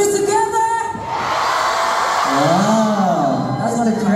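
A concert crowd in Chicago cheering and whooping loudly, a sustained roar of many voices with rising shouts near the end.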